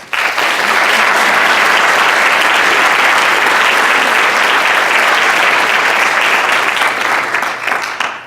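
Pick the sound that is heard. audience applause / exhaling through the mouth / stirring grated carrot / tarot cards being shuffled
audience applause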